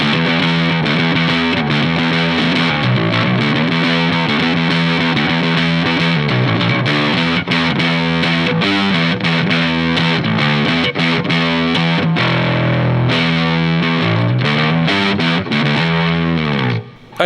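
A bass guitar runs through a Maestro Fuzz Tone pedal, playing a thick, heavily distorted riff with buzzy sustained notes and a continuous, loud, saturated tone that cuts off abruptly at the end.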